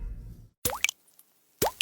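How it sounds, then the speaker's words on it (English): Unaged Jack Daniel's Tennessee whiskey drips through a charcoal filter in Lynchburg, Tennessee: two distinct, close liquid plops separated by a moment of silence. "That's the sound of unaged whiskey transforming into Jack Daniel's Tennessee whiskey in Lynchburg, Tennessee."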